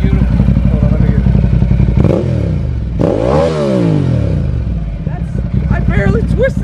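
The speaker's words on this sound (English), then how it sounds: "So wait, now give it a couple revs." A motorcycle fitted with a Termignoni race exhaust idles with a loud, rumbling throb, then gets a couple of sharp revs that rise and fall in pitch, close and dominating.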